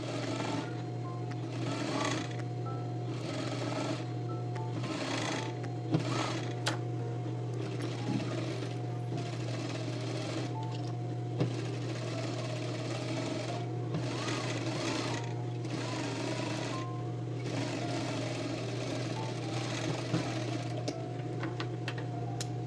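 Sewing machine stitching a seam on a men's shirt, a steady close-up mechanical whir with a constant hum and rapid needle clatter running without a break throughout.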